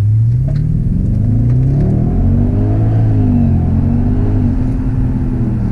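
An Audi RS6 C5 engine pulls hard under acceleration, a loud, close, steady mid-pitched drone rising through the gears with layered engine tones and whirring.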